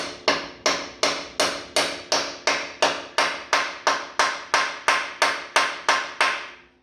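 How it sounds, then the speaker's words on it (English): A hammer strikes metal on a 1948 Chevy truck, bending the top piece with about fifteen sharp, evenly spaced ringing blows, close and loud, each decaying before the next. "now we're going to take our hammer and we're going to bend this top."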